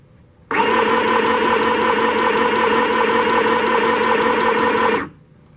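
A sewing machine stitches shirt fabric in one loud, continuous whirring run of about four and a half seconds, starting and stopping abruptly with near silence on either side.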